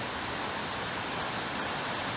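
Mantayupan Falls, the tallest waterfall in Cebu, Philippines, pouring into a blue pool; a steady, dense roar of falling water fills the scene evenly with no voices.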